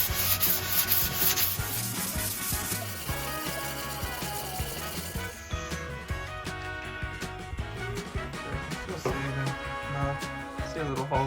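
Sandpaper rubbing back dried filler putty on pine cabinets inside a yellow bus, a steady close scratching and rubbing that runs throughout, strongest in the first half and continuing in rhythmic strokes.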